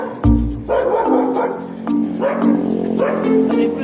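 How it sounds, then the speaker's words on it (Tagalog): A dog barks near a stoplight during a group bicycle recovery ride, a few sharp barks and yips over road noise and faint voices. "aso talaga yan"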